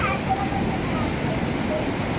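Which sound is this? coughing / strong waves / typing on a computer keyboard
strong waves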